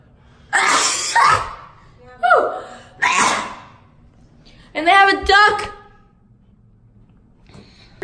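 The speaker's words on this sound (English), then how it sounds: "I have to sneeze." A person on a Miami beach trip takes several loud, close gasping breaths that build into a sharp sneeze, followed by more breathy bursts and then quiet.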